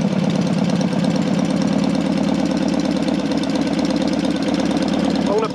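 A Matchless G12 classic motorcycle engine idles nearby with a loud, steady, rapid pulsing beat that holds constant for several seconds.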